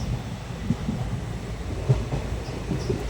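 Interior of a moving passenger train: a steady low rumble with faint wheel clicks and a few soft knocks, no voices.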